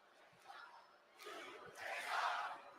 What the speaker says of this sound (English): Well, at least the crowd's reacting to this.